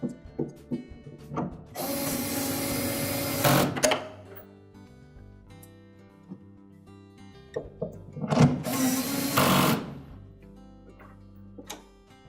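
Screws being driven into a Whirlpool refrigerator during a defrost thermostat repair: two loud sustained powered bursts of a few seconds each, separated by clicks and small mechanical ticks.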